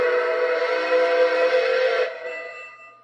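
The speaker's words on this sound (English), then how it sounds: "So does the 2 toots of the whistle automatically" An automatic model train whistle sounds a sustained, tonal toot with several steady harmonics for about two seconds, then fades out with a softer tail.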